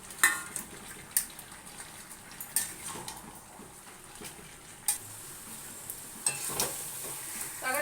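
Fried fish heads going into a simmering vegetable curry of Malabar spinach and drumstick, with quiet stirring and scraping of a utensil in the pot, soft sizzle underneath and a few sharp clinks of metal against the pan.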